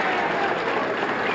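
Standing ovation from a banquet crowd at a sportsman's game trophy dinner, dense steady applause filling the room from start to finish with a faint murmur of voices underneath.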